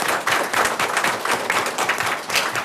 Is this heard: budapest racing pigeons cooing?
no